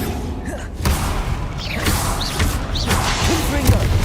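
Bombarda blasting spell in Hogwarts Legacy on PC, a loud burst of whooshing, creaking and thudding impacts amid dense game sound, with a short voiced call over it.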